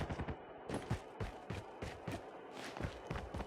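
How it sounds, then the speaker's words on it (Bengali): Gunfire and movement in the mobile game Call of Duty Mobile: rapid bursts of shots and footstep-like thumps in quick succession, moderately loud, with little voice. "গুলির আওয়াজ পাচ্ছি, এনিমি দেখা পাই না।"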